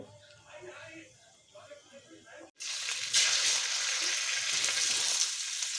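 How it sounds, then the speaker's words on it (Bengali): Boiled, chopped potatoes dropped into hot oil burst into a loud, steady sizzle halfway through, after a quieter stretch with a voice talking over low kitchen sounds. "এবারে এই তেলেই ভেজে নেব"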